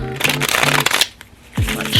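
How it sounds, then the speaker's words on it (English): Uno Flip playing cards shuffled by hand, a rapid, close riffling rush in two bursts with a brief pause between, loud and with no talk over it. "let's shuffle."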